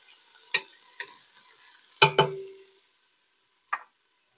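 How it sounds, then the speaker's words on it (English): Bell peppers being stirred in a hot pan: a few scattered scrapes and clatters, with a longer sizzling burst in the middle, then quiet apart from one last short scrape. "I'm going to stir that up, cook that up till it's"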